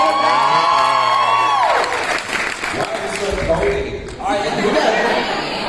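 Small convention crowd at an Eyecon 2019 Q&A bursts into cheering, whoops and applause after a loud drawn-out shout, with chatter and scattered calls mixed into the clapping.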